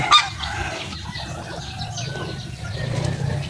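Geese honk in a noisy outdoor setting, with one sharp call near the start and a steady wash of farmyard background behind it.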